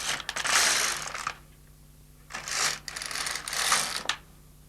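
LK150 knitting machine carriage pushed across a row: bursts of clattering mechanical rattle and whir, two or three close passes separated by short pauses, no voices.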